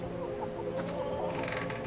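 Chickens clucking steadily in the farming horror video game Dread Fields over a low ambient hum, with a few brighter squawks near the end; no talking.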